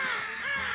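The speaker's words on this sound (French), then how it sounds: "Ouah, des corbeaux!" Crows caw outdoors in a short burst of two or three harsh calls, fairly close and clear with no talk over them.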